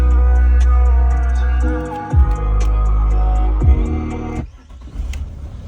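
A 2003 Audi A4 quattro with a 2.5 diesel engine runs loud and close, its steady rumble dipping briefly around a restart and then settling, with a sharp revving surge before the sound drops to a rougher idle near the end.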